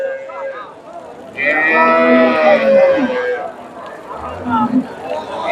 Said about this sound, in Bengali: সেরা মানের দুইটা গাভী দেখতেছি